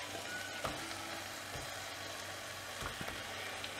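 Drumsticks and dried prawns sauté in a clay mud pot, a soft, low sizzle close by, broken by a few brief scraping stirs.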